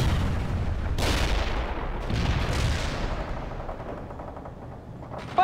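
Sustained gunfire from World in Conflict, a dense rattling stream of machine gun and rifle shots with booming bursts near the start, continuous and loud with no talk over it, ending on a brief sharp electronic chirp.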